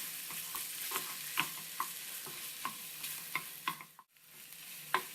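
A spoon stirs a squid and firm couscous mixture in a pan with soft rhythmic scrapes and taps over a faint sizzle, followed by a brief pause near the end. Quiet and close.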